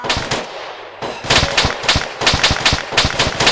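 Rapid bursts of automatic gunfire from an Arma cooperative Zeus mission crackle loud and close, a brief pause, then dense repeated shots rattling in quick rhythmic volleys to the end.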